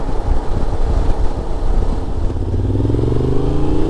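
A loud Honda Transalp XL750 motorcycle with a full Black Widow exhaust system rumbles steadily up close, then its pitch climbs as the rider revs harder near the end.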